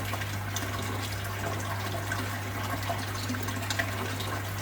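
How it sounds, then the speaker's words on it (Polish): Water runs steadily into an angelfish breeding aquarium as it is topped up, a soft, continuous trickle and splash over a constant low hum, fairly faint with no talking. "Dolewam sobie wody oczywiście do pewnego momentu"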